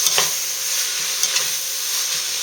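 Vegetables sautéing in Mazola corn oil in a pot make a continuous close sizzle with a few soft stirring knocks and scrapes, no voices.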